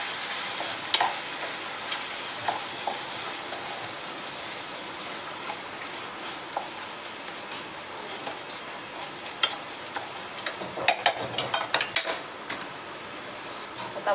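Soybean vegetable curry sizzling in hot oil in a pan, a steady fine crackle throughout with occasional clinks of a spoon against the pot, close and moderately loud.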